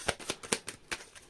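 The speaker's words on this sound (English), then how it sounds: "Last shuffle." Tarot cards being shuffled by hand, a quick run of four or five crisp riffling bursts in close succession, near and fairly quiet with no voices.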